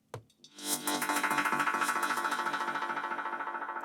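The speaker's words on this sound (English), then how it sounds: "I added a few more melodic stabs that I got out of Ableton Live using" Bright synth chord stabs from a Massive software synth ring out and repeat in a rapid, decaying delay pattern, fading gradually over several seconds.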